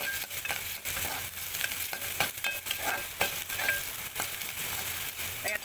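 Two small onions sautéing in a pan for a sandae vegetable dish, a steady close sizzle broken by repeated scraping stirs of a spatula, with no talk over it.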